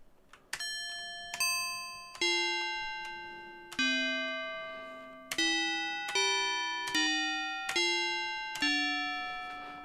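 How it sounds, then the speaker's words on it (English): Synthetic FM bell tones from a Gravis sound card play a slow melodic sequence, one struck note at a time, each a bright metallic ding that decays steadily before the next, clear and alone. "Bell sounds were something that FM synthesis was extremely good at."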